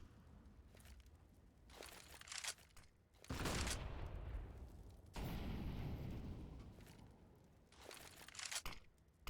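Bursts of AK rifle fire in a Counter-Strike match on the Vertigo map, several loud overlapping volleys with booming low end and a sustained stretch of shooting midway, no talk over it.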